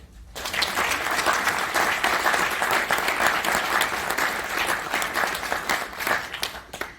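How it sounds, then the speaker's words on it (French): At the 2021 Académie de Saintonge awards ceremony, the seated audience applauds the patrons in a full hall, clapping that swells quickly after a brief silence, holds steady, then thins out near the end. "je vais vous demander, mesdames et messieurs, de les applaudir"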